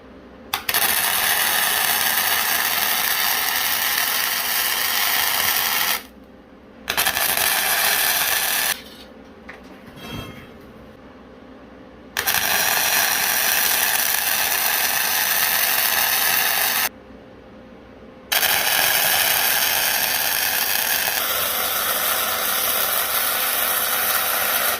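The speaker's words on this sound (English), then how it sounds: "We're gonna start welding." Arc welding on a gas tank swage block produces close, loud, steady crackling buzz in several long runs broken by short pauses.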